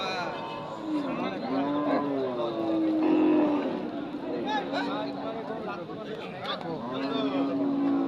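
Dairy cows at a busy village cattle market moo repeatedly in long, low calls, several overlapping at moderate distance, amid crowd chatter and people talking nearby.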